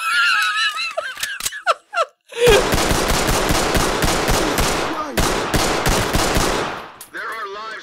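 Automatic gunfire from a video game gunfight, long rapid bursts of loud close shots after a few brief noises, with a short pause midway and a voice at the very end.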